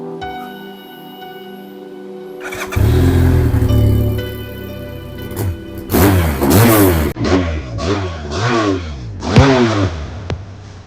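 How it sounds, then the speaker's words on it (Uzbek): A motorcycle engine idles with a low hum, then revs up and down in a string of quick throttle blips, loud and close with no talking. "Bu mototsiklimiz ovozi juda ham baland"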